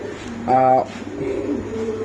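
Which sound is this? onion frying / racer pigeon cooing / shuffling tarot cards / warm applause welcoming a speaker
racer pigeon cooing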